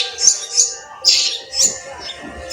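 Young myna chicks squawk for food at close range in loud, shrill repeated calls, about four bursts in quick succession with a brief pause.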